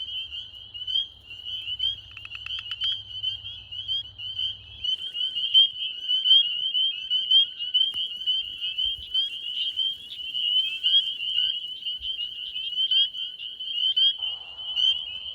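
A continuous high trilling chorus of frogs fills a Georgia wetland, steady and dense, with leopard frogs and spring peepers among the callers.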